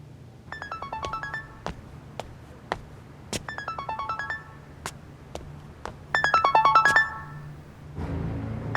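A mobile phone ringtone plays a repeating melodic chime in bursts over quiet background music, loud and close, with a louder final burst before a brief low rumble at the end.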